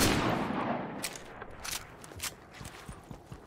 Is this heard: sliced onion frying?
no